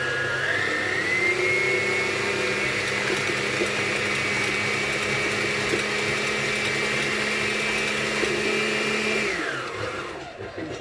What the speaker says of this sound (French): je vais maintenant battre mes jaunes d'œufs